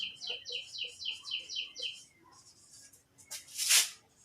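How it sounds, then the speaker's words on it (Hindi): Birds in a tree chirp in a quick, regular series of high calls, fairly faint over low background noise, followed after a lull by a brighter burst of twittering. "उस पेड़ पर चिड़ियां चहचहा रही है।"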